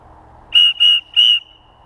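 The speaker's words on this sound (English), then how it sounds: "I'm gonna go ahead and give it a blow real quick from about right here" A Windstorm safety whistle blown three times up close, each blast a piercing, very loud shrill tone lasting a fraction of a second, with brief gaps between them and no talking.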